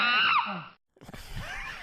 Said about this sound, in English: if you hear an ape scream, that is because somebody has dropped a no-no word